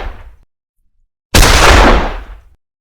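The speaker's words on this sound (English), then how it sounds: "We're just doing the gunshot sound" Gunshot sound effect from an Unreal Engine FPS template: a faint tail fading out, silence, then a single loud sharp blast with a rumbling decay lasting about a second.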